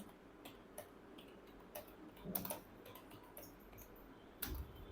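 Keys on a computer keyboard are tapped at a desk, giving sparse, faint clicks spaced irregularly, with a firmer keystroke near the end, like a number being entered and then Enter pressed.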